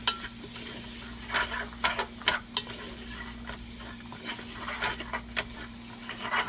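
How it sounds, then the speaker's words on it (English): Chopped celery and other vegetables sweat with flour in a pan, giving a steady soft sizzle while a spoon scrapes and stirs in repeated irregular strokes. "We're going to sweat these down with our flour."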